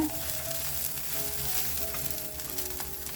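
Reddened garlic, curry leaves and coriander leaves frying in a pan for a ridge gourd dish: a continuous close sizzle with faint stirring underneath.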